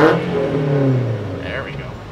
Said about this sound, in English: letting the sound of my exhaust keep me awake